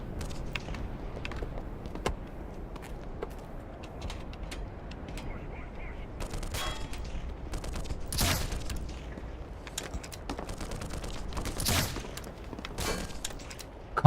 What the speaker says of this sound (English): Wait, there's more shooting still? Who's shooting?